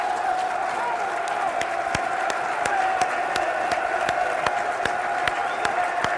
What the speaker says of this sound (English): This is the applause of Matt Smith's young son.